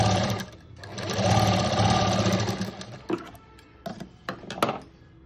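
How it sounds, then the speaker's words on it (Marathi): A sewing machine stitches small, tight stitches around the cutwork on a blouse sleeve. A fast, continuous whirring run of about three seconds is followed by several short, sharp clicks and taps. "आणि आता शिलाई छोटी करायची आणि कटवर्क आहे ना त्याच्या बरोबर असं गोल गोल शिवून घ्यायचं"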